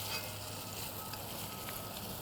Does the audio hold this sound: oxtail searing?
yes